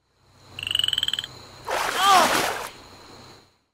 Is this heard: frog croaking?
yes